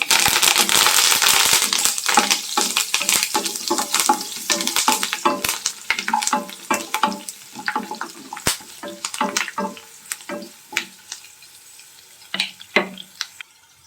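Chopped green chillies and curry leaves sizzle in hot oil in a pan after mustard seeds, a dense crackling spatter that gradually thins into scattered pops and stirring scrapes, with no one talking.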